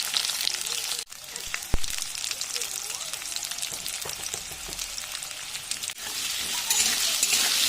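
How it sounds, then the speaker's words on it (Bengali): Potato pieces frying in oil in a pan for a jackfruit and prawn curry, giving a steady close hiss and sizzle with occasional stirring clinks and a soft voice now and then. "তার জন্য আলুগুলো এখানে ভেজে নিচ্ছি।"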